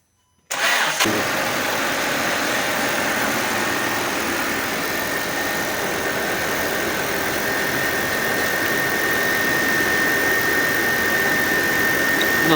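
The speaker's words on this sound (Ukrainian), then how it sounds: "можна заводити двигун. І тепер заводимо" A Skoda Superb 1.8 T engine cranks and catches after a brief silence, then settles into a steady, loud idle that continues to the end.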